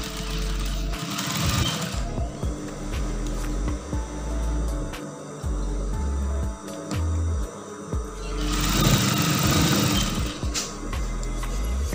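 Sewing machine stitching a brocade dress with a plain fabric combination, running in bursts of rapid needle chatter with short pauses between seams, close and fairly loud, no talking.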